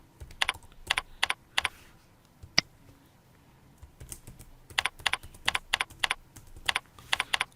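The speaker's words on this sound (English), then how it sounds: "now we type in the home address" Quick clusters of computer keyboard keystrokes come in close, crisp bursts separated by brief pauses, entering a home address into payroll software in an office setting.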